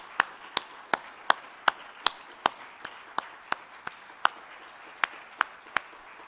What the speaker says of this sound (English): join me in another round of applause for these 2 fine speakers